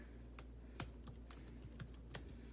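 Typing on a computer keyboard, a steady run of quiet, close key clicks with irregular rhythm and a few slightly heavier strokes, alone over a low background hum.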